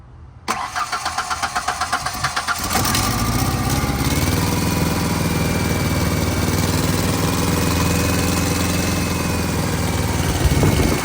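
A Mazda B2300 pickup engine, long parked and suffering low compression, cranks in a rhythmic series, fires and runs loud and rough close by, with an uneven misfiring idle as if on two cylinders.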